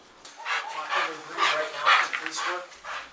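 Newly introduced police K9 dogs bark in a series of sharp, fairly close barks and yips, several in quick succession over a few seconds.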